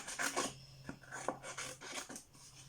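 Scissors snipping a small heart shape out of paper for a handmade scrapbook card, a close series of short dry rasping cuts with slight pauses between strokes, quiet and alone.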